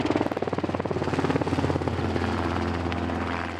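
A helicopter flies over an outback cattle station during a muster, its rotor thudding in a fast, loud rhythm close by before easing into a steadier, slightly more distant whine.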